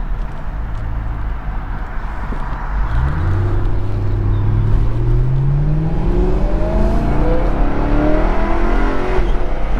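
A 2013 BMW M3 Competition Package pulls away in paddle shift mode, its engine note rising steadily through the gears with smooth upshifts, close and loud over constant road and cabin rumble.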